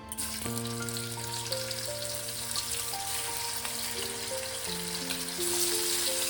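Amudi fish sliding into hot salted oil and frying with a loud, steady, dense sizzle throughout, while a tonal background hum continues underneath.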